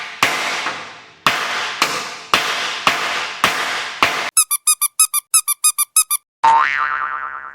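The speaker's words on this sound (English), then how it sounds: "You take your ball peen hammer like I did before and beat it till it's flat." A ball peen hammer beats a lead fishing sinker flat in a run of sharp, ringing metallic strikes, first six spaced heavy blows, then a quick series of lighter pinging taps, ending in a longer resonant ring.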